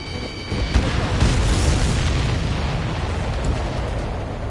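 Missile explosions in the combat flight video game Ace Combat 7, a loud continuous rumbling barrage of booms and blasts with no voices over it.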